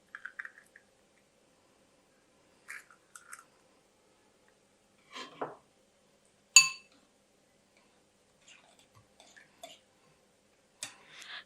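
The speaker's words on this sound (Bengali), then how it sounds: "এখানে ডিম দিয়ে দিব 2টা।" Two eggs are cracked into a bowl of vegetables for a breakfast snack, heard as a few sparse, faint clinks and taps of shell against the rim, with one sharper knock in the middle and quiet pauses between.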